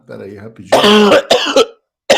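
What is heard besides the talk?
cough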